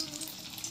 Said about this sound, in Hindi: मस्त कढ़ाई में एकदम गरम तेल से इसको फ्राई करते हैं दोस्तों